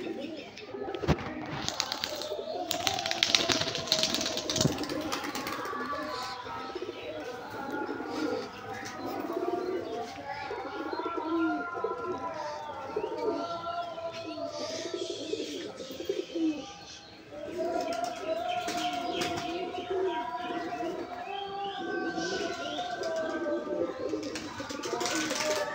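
Giribaz pigeons calling, with repeated soft cooing phrases rising and falling over a steady background, fairly close and continuous throughout.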